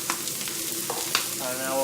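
Shallots, garlic and cauliflower frying in a pan, a close, steady sizzle with a few sharp crackles and pops.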